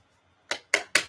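Tarot cards shuffled close by in three quick, crisp riffling bursts evenly spaced after a moment of quiet, with no talking.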